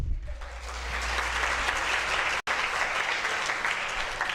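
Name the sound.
audience clapping for the poet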